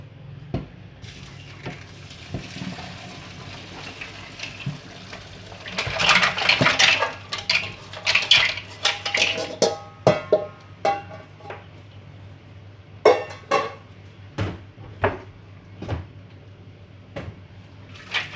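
Boiled green mussels being drained in a metal pot after cooking, giving scattered clattering shell knocks and clinks with a soft watery rush, loudest through the middle and then thinning to sporadic taps.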